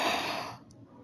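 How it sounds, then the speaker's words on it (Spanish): A slow, deep inhalation taken while yawning during a guided breathing exercise, soft and close, tapering off into quiet after about half a second. "Respira bostezando"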